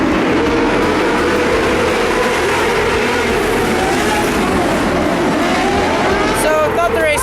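Race cars circling at the Tulsa Shootout, a loud continuous engine roar with rising and falling pitch as cars sweep past, and a voice talking over the noise.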